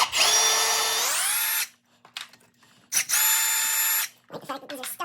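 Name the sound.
power tool removing oil pan studs on RX7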